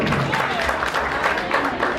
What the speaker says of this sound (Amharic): አሜን ብላችሁ እስኪ አጨብጭቡ በደንብ እስኪ በደንብ